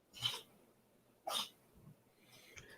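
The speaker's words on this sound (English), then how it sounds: "If you hear sneezing, it's my cat behind me." Two quick, sharp sneezes about a second apart from a cat, then a softer snuffle, small and faint nearby.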